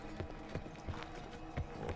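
Donkey hooves clip-clopping in Black Ops 4 Zombies on the Alpha Omega map: a run of sharp, hollow hoof knocks in an uneven walking rhythm, close by over low game ambience.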